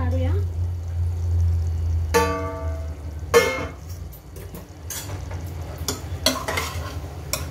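A lid comes off a pot of mutton biryani cooking on medium gas, producing a few sharp metallic clanks and rattles over a low burner hum, with a brief gentle sizzle between them.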